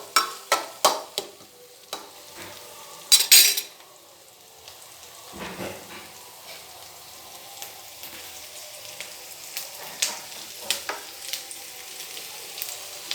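Vegetables (chillies, capsicum and tomatoes) frying in a pan for pasta, with a steady sizzle under sharp clattering stirs of a utensil against the pan, louder scrapes early on and lighter taps later.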